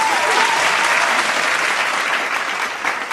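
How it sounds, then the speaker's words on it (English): A crowd's applause, dense and loud, keeps a steady clatter of claps throughout before easing slightly toward the end. "some more claps"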